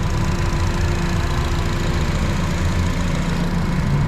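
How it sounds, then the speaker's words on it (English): An Acura TSX car engine, after a battery relocation, runs at a steady idle, a continuous close low hum and rumble holding an even level throughout with no talk. "Car starts perfectly fine."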